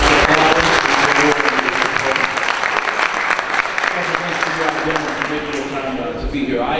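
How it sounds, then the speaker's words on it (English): Sustained applause from an audience at a public forum on a new Falcons stadium, a dense steady clatter of many hands clapping that fills the room and slowly tapers off. "let's give it a round of applause"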